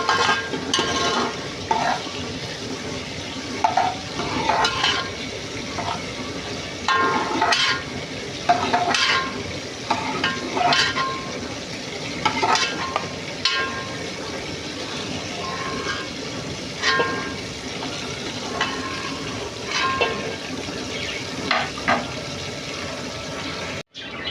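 Beef and potatoes fry with a blended masala paste in a pan, a steady loud sizzle running throughout with repeated stirring scrapes and clinks, no voices.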